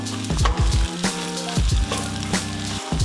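Garlic fried rice with eggs sizzles loudly in a hot pan, a steady crackling fry broken by several sharp scraping and stirring knocks, close and with no voices.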